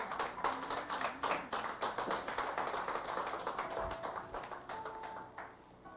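A church congregation applauds together in a sustained burst of dense, overlapping hand claps after a prayer, filling the room evenly before fading out near the end.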